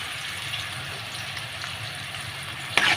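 Mustard seeds, cumin and green chillies frying in hot oil in a pan: a soft, steady sizzle with faint crackle and a brief sharper splatter near the end, no voices.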